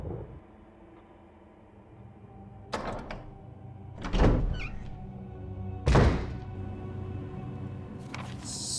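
A door opens in a Resident Evil video game with a creaking, drawn-out swing and heavy thunks, played over a low ambient hum with several distinct knocks and thuds.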